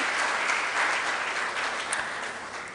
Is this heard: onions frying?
no